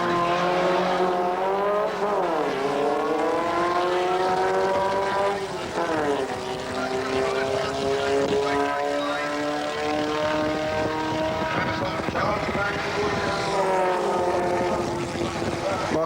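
Street-legal VW Beetle drag race cars launch and roar down the strip at the Bug Jam event, loud sustained engine drone with rising and falling pitch sweeps over crowd noise, continuous throughout.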